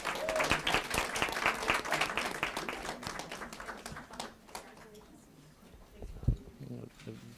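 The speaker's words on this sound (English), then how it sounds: "we have another round of applause?" Applause from the audience at a school district board of education meeting, a dense clatter of many hands that is loud at first, then thins out and fades to scattered claps.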